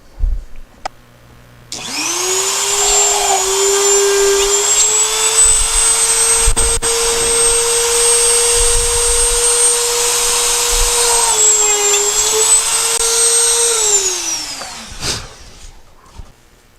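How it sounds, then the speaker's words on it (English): A Dremel drill press with a 1/16 bit whirs steadily at high speed for over ten seconds, loud and close, drilling holes, then winds down and stops. "I'm going to use a 1/16 drill bit in my Dremel drill press"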